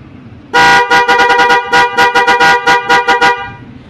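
A Bosch EC12cc Strider car horn blares loud and close in a rapid run of about a dozen short honks after one longer opening blast, with no voices.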